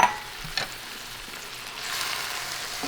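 Tomato drops into a pan where garlic is already frying over lowered heat, producing a brief soft hiss with a couple of light taps near the start and a slightly louder sizzle toward the end.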